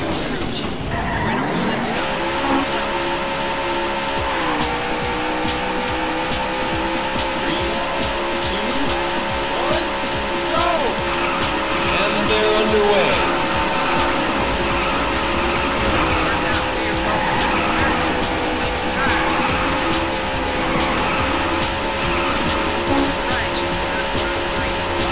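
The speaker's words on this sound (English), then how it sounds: "Gentlemen, start your engine." Race car engines in the Daytona USA arcade game roar continuously and loudly, with squealing tires and skids throughout, under occasional game announcer speech.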